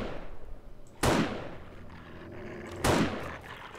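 Two sharp gunshots are fired at a zombie in 7 Days to Die, each a loud crack with a short decaying tail, spaced about two seconds apart over low ambient background.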